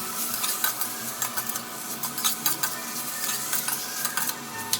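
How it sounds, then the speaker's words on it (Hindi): Chopped chayote being stirred into spices frying in a pan gives a steady sizzle with repeated scraping, clinking strokes of a utensil, close and busy without any talk. "अब इसमें मैं डाल रही हूँ सारे कटे हुए चायोटे।"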